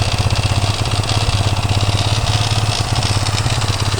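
A Honda FTR 230 engine fitted in a CTX200 frame idles steadily with a fast, even low putter and slight vibration, close and loud, with no talk.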